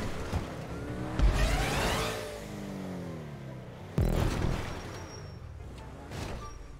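A Porsche drives in GTA 5 Online, its engine revving and sweeping past with tonal whine, a sharp thump near the start and another impact midway, then the motor rising again at moderate distance.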